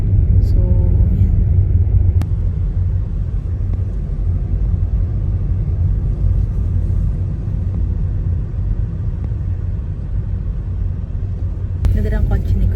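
Inside a moving car, a loud continuous low rumble of road and engine noise fills the cabin steadily from start to finish, with a couple of brief clicks.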